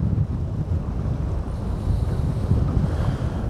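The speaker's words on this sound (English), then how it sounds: "The thing that's causing that is the wind against the tide." Wind blowing against the tide at sea off Whitby, with choppy waves slapping around a fishing boat; a loud continuous rushing roar with heavy wind buffeting on the microphone and no speech.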